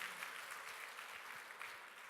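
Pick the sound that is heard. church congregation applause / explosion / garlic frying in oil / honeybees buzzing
church congregation applause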